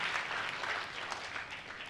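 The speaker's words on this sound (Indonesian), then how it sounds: "tepuk tangannya boleh yang paling meriah buat Yesus Tuhan kita" A church congregation applauds for Jesus, a dense wash of clapping from many hands that stays fairly even and moderately distant for a couple of seconds, with no clear voices over it.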